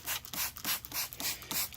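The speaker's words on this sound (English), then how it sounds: "Here's a really good example of clear coat wet sanding" Wet sanding of clear coat on the fender of a 1958 MGA under restoration, heard as steady back-and-forth rubbing strokes, about six even passes, close and clear with no talk.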